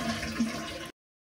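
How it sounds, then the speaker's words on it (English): A toilet flushes as its tank is drained during a tank parts replacement, giving a steady close rush of water that cuts off abruptly under a second. "Now you just wanna drain the toilet."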